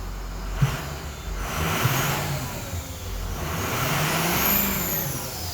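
A repaired Ford F250 truck engine runs close by, idling with a low rumble and rising into several swelling revs and falling back, loud and steady with no talking.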